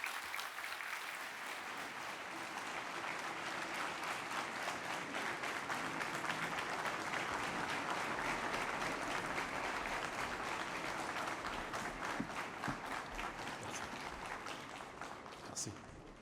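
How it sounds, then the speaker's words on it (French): Audience at a government programme event in Benin applauds to welcome President Patrice Talon, a steady, dense clapping that swells and holds throughout, filling the hall evenly with no speech over it. "de bien vouloir offrir au Président de la République, M. Patrice Talon, un accueil chaleureux, nourri par vos applaudissements"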